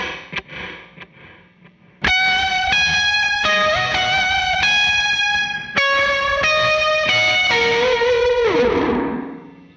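Electric guitar run through a short-tailed, very reactive reverb preset on a Mercury X pedal, loud and distorted, with sustained chords changing every second or so and a final chord that bends and decays.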